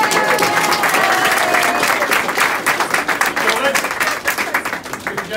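Crowd applause at a political campaign event: sustained, loud clapping from many people that fills the whole stretch and thins a little toward the end, with voices mixed in.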